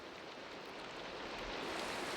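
Rain falls in a video game as a faint, even hiss that holds steady throughout, with no voices.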